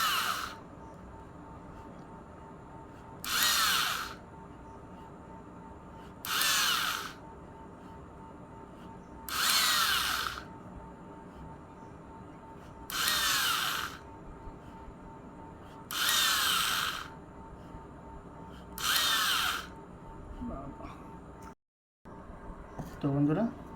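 A power tool buzzes through a coconut shell in about seven short bursts, each a loud, bright whine lasting roughly a second, set against a quiet background.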